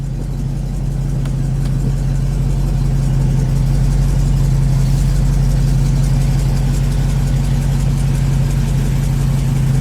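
A Dodge Challenger Hellcat with a Hemi V8 idles close by with a steady, loud low rumble and a faint rhythmic ticking running throughout, with no talk.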